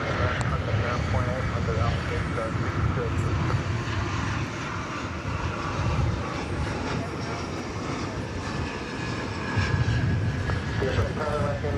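Spirit Airlines Airbus A320 jet engines at DFW Airport at night, a loud, sustained roar with swelling and easing rumble, and people talking over it.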